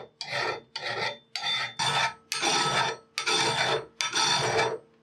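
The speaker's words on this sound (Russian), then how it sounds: "обработаем место среза с помощью напильника" A metal hand file smooths the cut end of a steel channel in seven rhythmic rasping strokes. Each stroke is close and distinct, with brief gaps between them and no talk.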